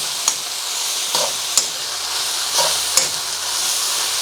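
Beef and onions stir-frying in a pan for Chinese takeout-style beef and onion, a steady close sizzle broken by several sharp scrapes and clanks of stirring spaced through the clip, with no talking.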